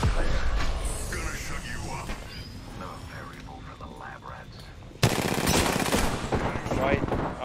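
Rapid automatic gunfire in Apex Legends, loud and close, rattling at the start and erupting again in a sustained burst near the end, with players talking over the shooting.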